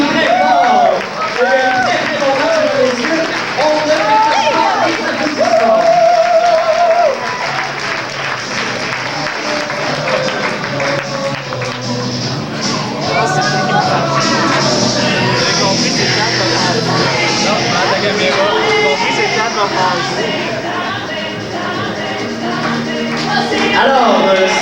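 Theatre audience at an amateur improvisation match in Saint-Hyacinthe applauding loudly and steadily, a dense crowd of clapping with cheers that swells again near the end, mixed with an announcer's voice over a sound system.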